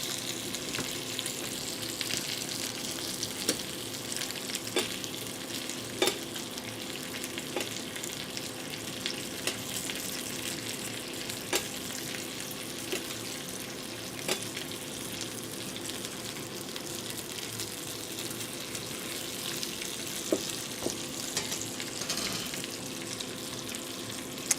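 Lamb chops sizzle in a pan, a steady, fairly quiet frying hiss broken by scattered sharp pops and crackles, heard alone without talk.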